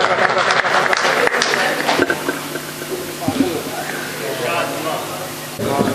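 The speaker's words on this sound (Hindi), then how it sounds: "पुरजोर तालियों से इस्तकबाल करे" A mushaira audience in Jhansi applauds to welcome a poet, a broad wash of clapping under a voice speaking over the crowd.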